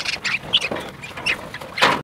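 Pet lovebirds chirp and squawk in short bursts while being caught, close and fairly loud, with scattered flutters and sharp calls spread across the clip.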